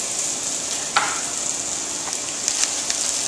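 Hot oil sizzling in a pan as onion goes in, a steady close frying hiss with a few sharper crackles and pops throughout, no voices.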